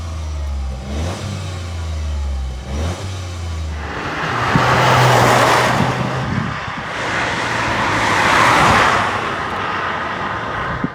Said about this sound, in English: now we'll show you what the car sounds like in its original state